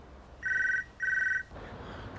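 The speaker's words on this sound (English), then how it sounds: "Come on, answer the phone, will you?" A telephone rings with two trilling electronic bursts, clear and close in a quiet room, then falls silent.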